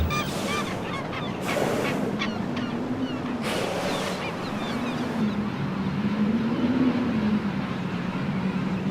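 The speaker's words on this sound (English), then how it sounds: "hundreds of king penguins are making landfall after weeks of feeding far out in the open ocean" Hundreds of king penguins come ashore after weeks at sea, their honking, trumpeting calls rising over the continuous wash of surf on the beach.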